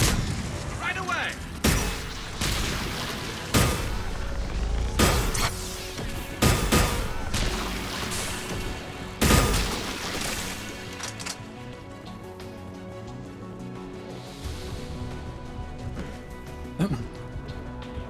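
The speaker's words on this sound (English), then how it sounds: "AA guns ahead of us." Anti-aircraft guns in a ZX Spectrum video game fire a string of sharp, irregular bursts over a rumbling noisy backdrop, loud early on and then thinning out, with a voice talking at times.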